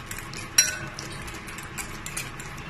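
A fork mashes overripe banana in a bowl for oat pancakes, giving light metallic clinks and taps with one sharper knock, near and fairly quiet.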